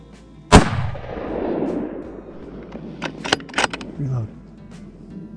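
A single loud rifle shot cracks out during an Arizona elk hunt, its boom rolling and fading over a couple of seconds, followed by a metallic clack of the action being worked and brief nearby voices.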